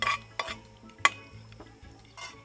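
Utensil stirring mango talkari in a metal pot, with several scraping, clinking strokes spaced irregularly over a low steady hum, moderately close and fairly quiet.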